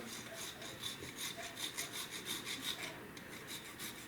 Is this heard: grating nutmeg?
yes